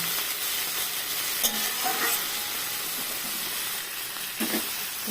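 Dried shrimp (shutki) fry in oil with a loud, constant hiss and sizzle, joined now and then by soft clicks and scrapes of stirring.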